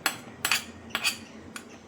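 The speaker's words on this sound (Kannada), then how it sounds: "ಈಗ ಕೊನೆಯಲ್ಲಿ ಈ ಕರಿಬೇವು ಸೊಪ್ಪು ಮತ್ತು ಕೆಂಪು ಮೆಣಸಿನ ಒಗ್ಗರಣೆ ಹಾಕ್ಕೊಳ್ತೀನಿ" Four crisp metallic clinks, like a ladle tapping a pan, spaced evenly apart and moderately quiet, come as a tempering of curry leaves and dried red chillies goes into pepper chicken masala.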